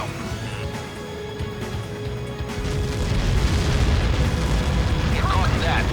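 A Helios missile strikes in the Ace Combat 7 video game, and a heavy rumbling blast swells from midway and holds loud and sustained, with a faint radio voice over it.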